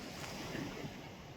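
Gentle surf washes onto a quiet, uncrowded beach in Dubai, a faint, steady hiss of small waves mixed with soft wind noise, with no distinct breaking crashes.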